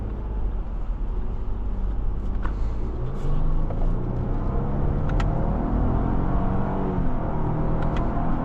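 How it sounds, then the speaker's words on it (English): A 2024 Lexus GX 550 Overtrail Plus accelerates in sport mode, its engine drone rising in pitch over a heavy road rumble and heard steadily from inside the cabin. "Put it in that sport mode, it picks itself up."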